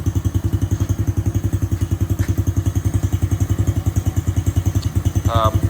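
A small quad ATV engine idles steadily right up close, its rapid even putter pulsing without a break, with a faint rattle of loose parts riding on top.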